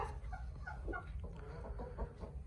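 A desi hen on a poultry farm clucks repeatedly in short, soft bursts close by, over a low background murmur.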